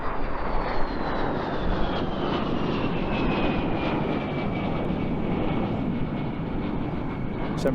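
A de Havilland Vampire FB.52 jet displaying at the Eastbourne International Airshow 2025 gives a loud, steady roar with a whine that slides lower as it passes, with no talking.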